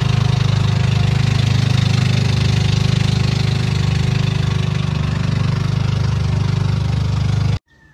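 A boat engine runs steadily and loud at close range, a constant low drone as passengers board for a trip to the Hundred Islands, then it cuts off abruptly near the end.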